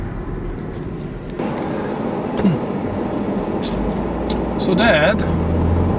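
A car rolling along a soft gravel road, a steady low rumble and crunch of tires continuing throughout, with people talking inside the vehicle over it.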